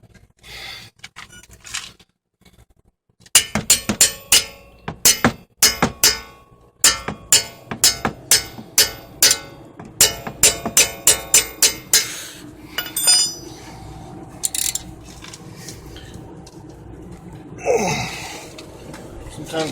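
A cheap wrench working a front brake caliper bolt on a 2008 Honda Odyssey makes a run of sharp metallic clinks and clanks, loud and close, with brief effortful breaths.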